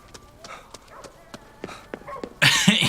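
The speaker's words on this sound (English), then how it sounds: "there's a dog." A dog in the video game Ghostwire: Tokyo, heard as a string of short barks and whimpers at close range, followed by a louder burst at the end.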